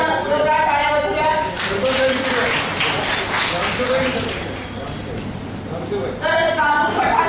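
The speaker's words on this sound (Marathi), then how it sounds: "आपण जोरदार टाळ्या वाजवूया" Crowd clapping at a Save Girl Child workshop, applauding a village sarpanch; broadband clapping fills the middle of the clip while voices talk over it at the start and end.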